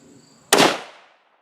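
A single loud rifle shot at an outdoor range while sighting in, a sharp close crack followed by a short fading echo and then silence.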